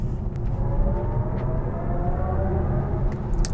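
A BMW iX1 electric car, rated at 330 horsepower, accelerating hard in boost mode with a steady, spaceship-like synthetic hum over low road and motor rumble, continuous and moderately loud throughout.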